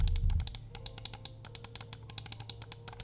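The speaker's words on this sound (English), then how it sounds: "It's a really satisfying and very hard click." Crisp, hard mouse clicks from Kailh GM 8.0 switches in a Ninjutso Origin One X wireless ergonomic gaming mouse, a steady run of about twenty sharp close clicks after a brief low thump at the start.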